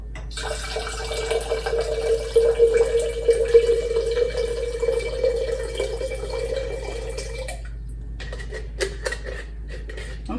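Rinse water is poured out of a broccoli sprouting jar with a perforated lid into a pot, a continuous trickling splash lasting several seconds before stopping, followed by a few faint clinks.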